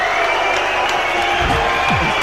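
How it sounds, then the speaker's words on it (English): A large arena crowd roars and cheers at a Muay Thai fight, a loud, sustained wall of voices with whoops rising over it. "Listen to the crowd, Sandy."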